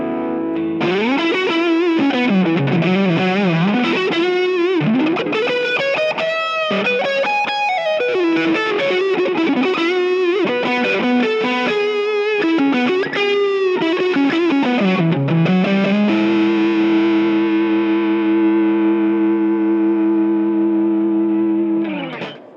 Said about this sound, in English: It just, yeah, sounds like a great Strat.